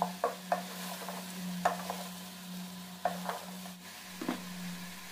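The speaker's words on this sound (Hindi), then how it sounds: "अब हम इसे मिक्स करेंगे।" About a kilo of ridge gourd being stirred into fried spices in a pot, with several distinct scraping strokes over a steady low hum and no talking.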